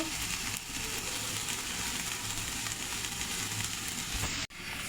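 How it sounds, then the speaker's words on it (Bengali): Cumin, radhuni, bay leaf and dried chilli sizzling in hot mustard oil as a tempering for a thin tengra fish and papaya curry, a dense, loud, steady crackle close up that cuts off abruptly near the end. "ফোড়ন করার জন্য নিয়েছি জিরা, রাঁধুনি, তেজপাতা, শুকনো মরিচ দিয়ে দেব"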